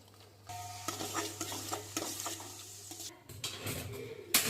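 Frying in ghee, with a steady close sizzle under stirring strokes and scrapes in the pan, a low hum underneath, and a brief louder clatter near the end.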